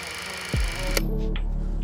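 A 16mm film camera loaded with 500-speed film, shutter at 1/60, runs for a single shot: a short mechanical click, then a steady, close, whirring motor rattle with no one speaking.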